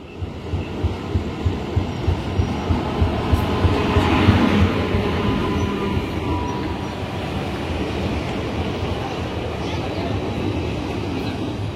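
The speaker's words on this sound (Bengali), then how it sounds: "এই বন্ধুরা ঢুকছে শিয়ালদা জঙ্গিপুর এক্সপ্রেস" The Sealdah–Jangipur Express pulls into a station, a loud rhythmic clatter of wheels over rail joints that peaks and then settles into a steady rumble.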